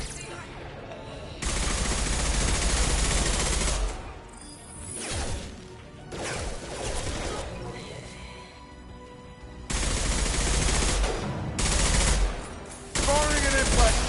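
Impact gun fire in Mass Effect 2, loud bursts of heavy weapon shots and crashing impacts in several separate volleys, with a voice talking between them.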